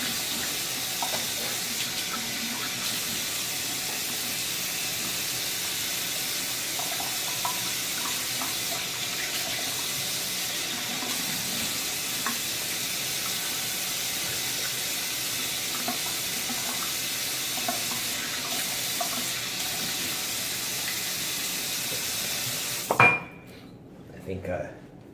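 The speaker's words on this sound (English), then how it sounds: "usually what I do is I do a cold water rinse" Bathroom tap running steadily for a cold water rinse after a shave, a continuous hiss and splash over a sink that lasts about 23 seconds and then stops abruptly, followed by a couple of faint knocks.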